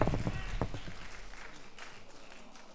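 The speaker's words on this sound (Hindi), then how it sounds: "एक बार आशीर्वाद दीजिए अपना तालियों से" Audience at a Hindi poetry recitation event (kavi sammelan) in a Kanpur auditorium clapping, dense applause that starts loud and gradually fades over a few seconds.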